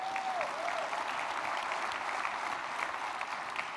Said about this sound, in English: Now we could clap for that.